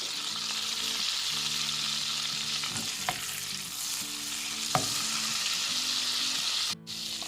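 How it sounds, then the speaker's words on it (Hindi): Cumin seeds sizzle steadily in hot butter for a dal makhani tempering, a continuous close frying hiss with a few sharp pops and crackles breaking through, over a faint tonal hum in the background. "बटर गरम हो गया, हल्की सी पिंच हम इसमें ज़ीरे की डालते हैं"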